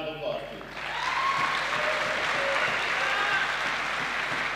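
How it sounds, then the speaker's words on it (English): A crowd of invitees at a historical fencing tournament bursts into applause, a dense sustained wash of clapping that starts after a short quiet moment and holds loud and even to the end. "So give them a round of applause, please"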